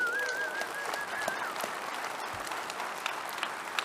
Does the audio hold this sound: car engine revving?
no